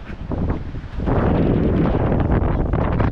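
Strong wind blasting across the microphone, a brief dull rumble that surges into a loud steady rushing roar after the first second, with no voices.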